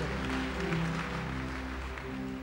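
Church congregation clapping hands during a tribute service, a continuous wash of clapping heard under steady low musical tones and hum, fairly faint and sustained throughout.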